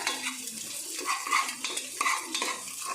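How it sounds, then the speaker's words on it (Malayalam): Egg being stirred into cooked rice in a hot pan: steady scraping and stirring over a faint sizzle, with a few sharper utensil scrapes against the pan, close and fairly quiet, no talking. "മുട്ടയും കൂടെ ആഡ് ചെയ്തിട്ട് നമുക്കത് നന്നായിട്ടൊന്ന് മിക്സ് ചെയ്യാം"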